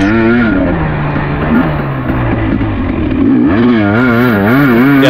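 A dirt bike with a freshly rebuilt top end revs and bogs loudly up close on a slippery rainy trail, engine pitch climbing and dropping through throttle changes, steady and unbroken.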